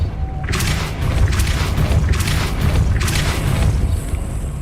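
A Depulso spell cast in Hogwarts Legacy, heard as a series of loud booming magical blasts with bright bursts repeating roughly every second over a dense low rumble.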